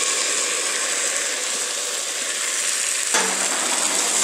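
Chopped tomatoes hit browned mirepoix in a pan during cream of tomato soup preparation, giving a loud, steady frying sizzle that swells sharply about three seconds in, with no voices.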